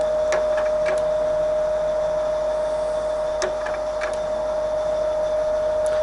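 Jones & Shipman 1300 series cylindrical grinder running with its feed engaged, a steady loud mechanical hum with a constant tone, broken by a few faint clicks.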